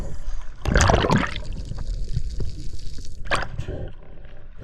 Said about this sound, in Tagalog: Grabe yung alon naglalaki.